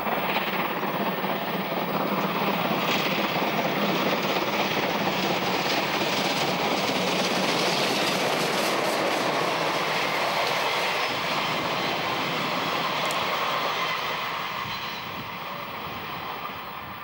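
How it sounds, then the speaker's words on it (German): Class 03 steam locomotive hauling a four-car special train at top speed: a loud, sustained roar of rushing train noise with rolling wheel rumble, steady and close before easing slightly toward the end. "Nur vier Wagen zieht die Lok mühelos mit Höchstgeschwindigkeit."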